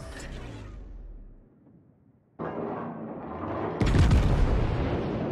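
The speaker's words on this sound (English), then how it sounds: "It's gonna be one more HE volley and then we'll switch to AP." The French battleship Jean Bart firing a high-explosive shell volley in World of Warships, heard as a sudden heavy boom, then a second, louder blast that rolls on into a sustained roar.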